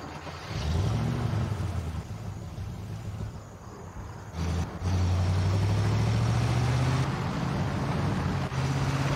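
A vehicle engine in Battlefield Bad Company on Xbox 360 drones steadily and loud throughout, rising in pitch as it revs up, dipping briefly, then holding a strong sustained roar.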